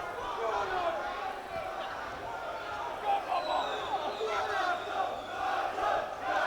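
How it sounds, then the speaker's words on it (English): A crowd at a boxing fight shouts and cheers throughout, a steady roar of many voices with rising yells, heard from nearby with a commentator-like voice mixed in. "You can hear the crowd behind us getting very heavily involved in this fight."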